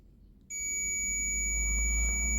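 A multimeter's continuity tester gives a steady high-pitched electronic beep that starts abruptly and holds continuously, clear and close over a faint background hum.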